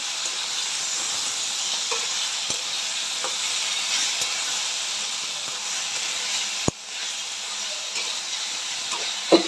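A ground paste of cumin and green and dried chillies is sautéed in a pan, giving a steady hissing sizzle close by, with a couple of faint utensil taps and one sharp knock.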